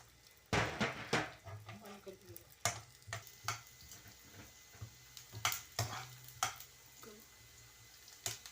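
Onions stirred in a pan for mutton keema, with a soft sizzle under repeated scraping and clattering stirs, fairly close and moderately loud, and no talking heard.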